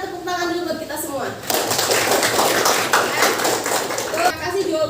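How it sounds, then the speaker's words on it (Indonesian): A classroom group of junior high students claps together at a teacher's prompt. The clapping bursts in partway through after a voice speaks, then continues as a dense, close patter with a few voices mixed in. "Sebelumnya kita tepuk tangan dulu buat kita semua"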